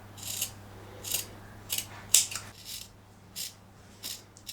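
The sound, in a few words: scissors cutting a strip of cotton fabric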